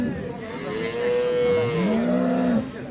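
A Friesian dairy cow at Ambari cattle market in Dinajpur gives a loud, close, drawn-out moo lasting a couple of seconds and ending in a rising second call, over faint crowd murmur.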